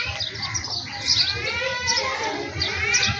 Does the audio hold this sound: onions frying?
no